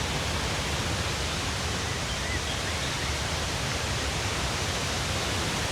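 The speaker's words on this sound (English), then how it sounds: "You can hear the water." Steady, broadband rush of water pouring continuously at Falls Mill, a historic gristmill with a 32ft waterwheel in Belvidere, Tennessee, like a stream over a mill dam, close and loud with no breaks.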